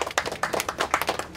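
Audience applause at the X-Tractor 2010 final, a quick run of sharp, close hand claps in uneven rhythm, brief and moderately loud.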